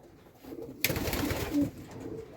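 Pigeons in a pigeon loft give a short burst of cooing and fluttering, close and fairly soft, over a quiet background.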